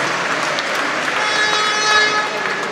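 An audience in a hall applauds during the GKM Grudziądz speedway team presentation, a steady, loud wash of clapping with faint tonal whistles or horn-like notes mixed in partway through.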